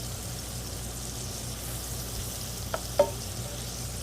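Sausage sizzles in an electric skillet with a soft, steady frying hiss, plus a couple of brief utensil clicks near the end.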